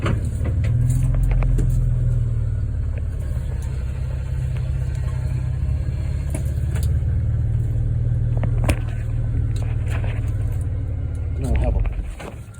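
A farm truck's engine idles steadily in a loud, continuous low rumble, close by, for the whole stretch before cutting off near the end, with a few faint knocks and clatters over it.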